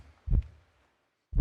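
A heartbeat sound effect plays during a school theatre production: two deep, muffled thumps about a second apart, each standing alone against near silence.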